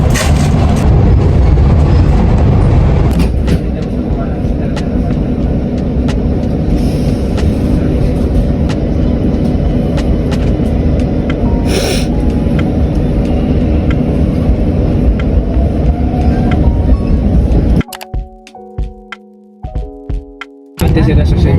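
Ride aboard a metro train in Spain or Portugal: a loud, sustained rumble of wheels and motor with rattles and clanks, then a sudden drop near the end into quieter station sounds with sharp tonal beeps and knocks, voices faintly mixed in.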